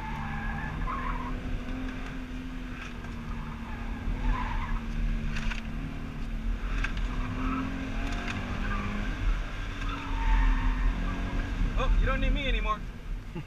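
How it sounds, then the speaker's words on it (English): A Toyota Prius on street tires squeals at the edge of grip, a sustained tonal screech over the car's running noise, with short sharper squeals near the end, at moderate distance. "That's what I love about street tires. You can hear them right there."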